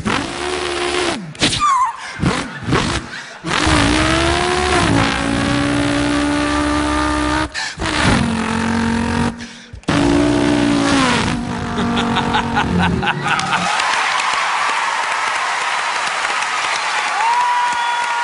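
On a talent-show stage, a performer imitates a revving car engine with his voice in choppy bursts of rising and falling pitch, including a V8, before the crowd breaks into applause.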